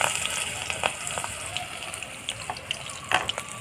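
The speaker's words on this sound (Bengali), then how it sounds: "ভেজে নেব বড়ার আকারে।" Malabar spinach (pui) leaves coated in batter sizzle as fritters fry in hot oil, a steady bubbling hiss with scattered crackles and pops close by.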